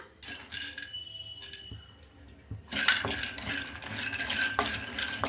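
Peanuts frying in a kadai are stirred with a metal spoon, giving scraping, rattling and light clinks against the pan. The sound is quiet and sparse at first, then fuller and busier for the second half.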